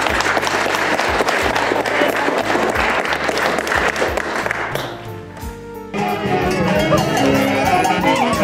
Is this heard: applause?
yes